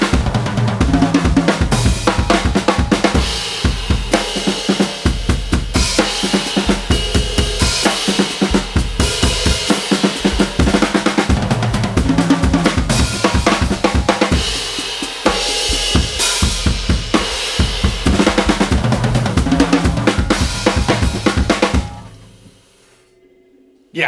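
Long, loud drum fill that builds into snare drums played right through to the end, dense and driving at full energy, then cuts off abruptly into near silence.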